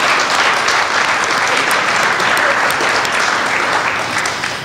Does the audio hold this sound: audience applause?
yes